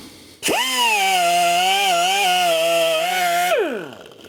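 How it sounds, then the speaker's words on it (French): A power-driven wire brush scrubs an oxidized battery cable and nut, its motor spinning up abruptly into a loud, steady whine for about three seconds before winding down. "Donc un petit coup de brosse métallique."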